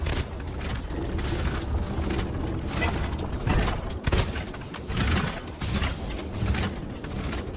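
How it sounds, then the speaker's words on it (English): Ship capstan being cranked up in Sea of Thieves, a steady mechanical ratcheting and creaking that runs continuously, close and fairly loud, with clanking game effects mixed in. "I'll just let him kind of shoot me as I'm raising this capstan up."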